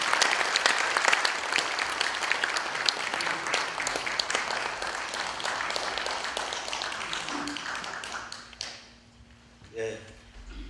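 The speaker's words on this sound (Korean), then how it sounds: "크게 한번 박수 한번 해주시죠" Lecture audience applauding to welcome the speaker, a broadband crowd of clapping for about eight seconds that fades out, with a voice speaking near the end.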